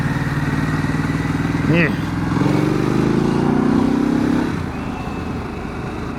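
A motorcycle engine runs steadily on a road during a weekday ride, its drone rising briefly in pitch before easing off, with a short spoken word over the rumble.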